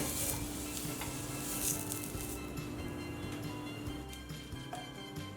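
Chopped onion dipped in oil is rubbed over a hot iron dosa pan before jowar dosa batter goes on, a soft continuous sizzle with light scraping and faint clicks, quiet and close, no talking.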